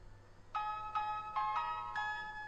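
Phone ringtone in a video game, a bright electronic melody of repeating tonal notes in short phrases, clear and steady over a faint low hum.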